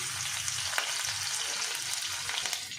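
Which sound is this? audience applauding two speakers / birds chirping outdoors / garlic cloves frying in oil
garlic cloves frying in oil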